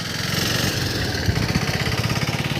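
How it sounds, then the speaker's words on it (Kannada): A Suzuki adventure motorcycle engine runs close by, a loud steady mechanical drone that settles into a rhythmic pulsing idle. "Suzuki adventure bike."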